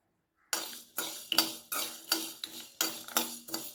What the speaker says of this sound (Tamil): அதோட ஒரு சுக்கு போடுறேன்